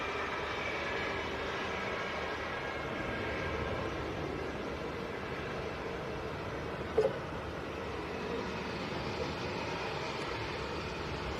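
TUI airliner at Manchester Airport in windy conditions, a low steady jet rumble carrying on throughout at moderate distance, with one brief sharp knock partway through and no talking.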